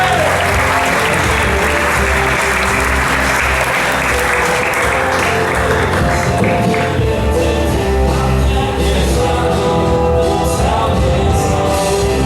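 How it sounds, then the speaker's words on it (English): An audience applauds loudly and steadily to welcome a speaker at a sports business talk, dense clapping filling the whole stretch with crowd noise mixed in. "Everyone, Morgan Campbell, give him a big round of applause"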